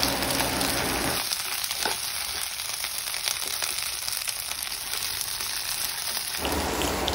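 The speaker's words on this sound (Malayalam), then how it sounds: "വെളിച്ചെണ്ണ നല്ലോണം ചൂടായി വരുമ്പോൾ നമ്മൾ നേരത്തെ കട്ട് ചെയ്ത് വെച്ചിരിക്കുന്ന വെണ്ട അതിലേക്ക് ആഡ് ചെയ്തിട്ട് ഒന്ന് വാട്ടിയെടുക്കുക." Cut okra dropped into hot coconut oil in a pan, a steady close sizzle and crackle that thickens briefly when the pieces go in, with no talk.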